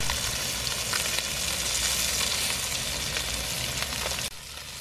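Black pepper fries in hot oil in a pan, a loud, continuous close-up sizzle with crackling that holds steady before briefly dipping near the end.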